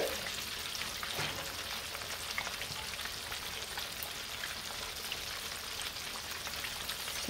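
Stuffed catfish deep frying in hot oil gives a steady, dense crackling sizzle that holds even and close throughout, with no voices.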